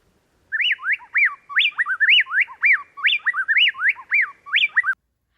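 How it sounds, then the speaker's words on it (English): A plain-tailed wren pair duets in Ecuador, trading clear, rapid whistled phrases so tightly that they sound like a single bird, repeating for about four and a half seconds against a quiet background. "Here's an example of a plain-tailed wren pair in Ecuador."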